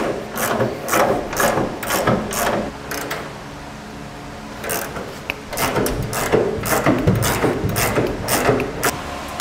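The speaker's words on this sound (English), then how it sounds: "Now we'll tighten up our frame bracket to our frame." Bracket bolts on a B and W underbed gooseneck trailer hitch being tightened beneath a 2017 GMC Sierra, with rapid ratcheting bursts and clicking metal mechanism sounds in repeated close spurts separated by brief pauses.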